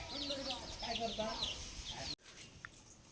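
Chickens clucking in a busy village farmyard with a voice talking over them, then the sound cuts to quieter background with a faint cluck.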